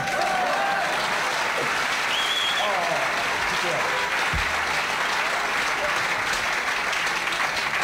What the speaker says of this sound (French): je vais vous demander plus sérieusement d'applaudir